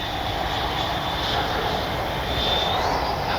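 A FMS 80mm F-86 Skyblazer RC jet passes overhead with its gear lowered, a steady broadband whooshing roar that holds at even loudness throughout, with a slight swell near the end.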